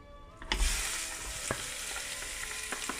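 Meat sizzles and fries in a Cookeo pressure cooker on its browning setting, a steady close hiss that starts abruptly, with occasional stirring knocks and scrapes.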